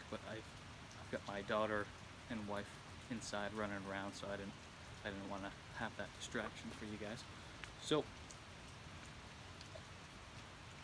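Steady rain falling outdoors with a brook running nearby, a soft continuous hiss that sits beneath someone talking throughout.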